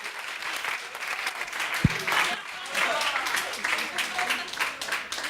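Audience applause at a pitch presentation event, a steady wash of clapping from a crowd with voices mixed in and one sharp low thump partway through.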